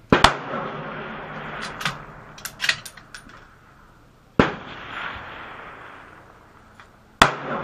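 Rifle shots at an outdoor precision rifle match: three sharp, loud cracks spaced several seconds apart, each trailing off in a rolling echo, with faint activity between them.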